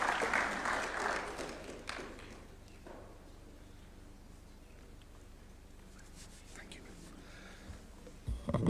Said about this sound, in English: Let's welcome him with a warm clap, please.